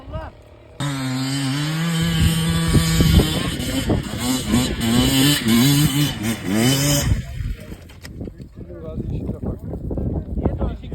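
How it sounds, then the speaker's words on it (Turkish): A KTM 300 two-stroke enduro motorcycle revs hard on a steep hill climb in Bilecik, its engine pitch climbing and falling loudly up close before breaking into choppy bursts, with people talking over it. "Gördün mü bak nasıl ses değişiyor motor."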